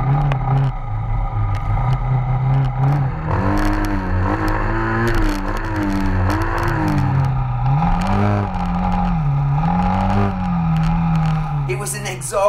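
A dirt motorcycle revs and accelerates hard through a sloppy, muddy course at the Wheels and Waves 2018 event, with a continuous, rising and falling engine note close by and a voice speaking over it.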